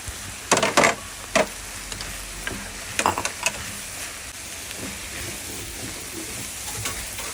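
Boiled liver and button mushrooms with thyme fry in a pan, giving a continuous close sizzle and hiss, broken by a few louder scraping stirs and clatters near the start and middle.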